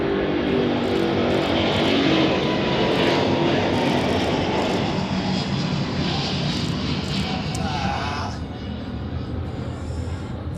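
Airliner taking off at Zurich Airport, a steady loud broadband engine roar throughout that eases slightly toward the end, with voices talking over it.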